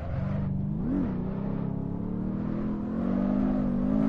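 Porsche 986 Boxster with a large naturally aspirated engine in the Assetto Corsa driving game, revving loudly and continuously, pitch dipping and rising with a brief surge near the start and building again toward the end.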